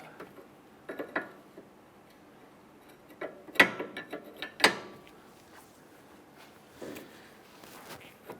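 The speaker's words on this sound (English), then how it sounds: "Let's go ahead and tighten down our jam nut." A ratchet tightens the jam nut on a tie rod during a steering rack and pinion bellow replacement on a 2005-2010 Chrysler 300: scattered short clicking bursts with quiet gaps between them, close by.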